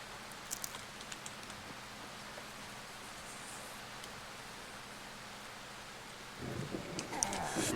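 Steady rain falls in the survival horror game Darkwood, a soft continuous hiss with faint scattered patter, growing louder and denser in the final second.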